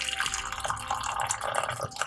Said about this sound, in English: So I'm going to add hot water.